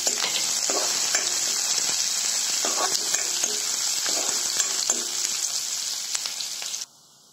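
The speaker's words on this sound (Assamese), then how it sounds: "তাত মই এতিয়া হৰ হৰকে কুটি লোৱা পিয়াজখিনি দি দিম আৰু এখিনি অলপ সময় মই ভাজি ল'ম" Chopped onions fry in hot mustard oil, giving a dense, continuous sizzle close by, with occasional stirring scrapes and clicks, steady and loud until it cuts off abruptly near the end.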